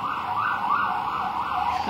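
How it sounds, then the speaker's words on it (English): An emergency siren wails in a smooth rising and falling cycle, fairly clear and steady for a couple of seconds, with no talking. "Ooh, is that the siren?"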